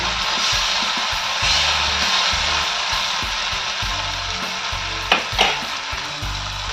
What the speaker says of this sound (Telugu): టమాటాని పచ్చి మసాలా పోయే వరకు ఫ్రై చేసుకోవాలండి.